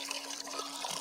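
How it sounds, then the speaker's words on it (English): Water pours steadily into a bucket, a soft splashing trickle close by, brief and fairly quiet. "pour water into the bucket again"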